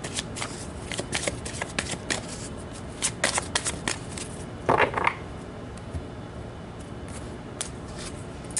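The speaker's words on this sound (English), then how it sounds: "So let's pull some cards to get more information for you guys." Tarot cards are shuffled close up in quick, repeated riffling flutters and soft slaps, a busy papery rhythm that continues steadily with a brief louder burst near the middle.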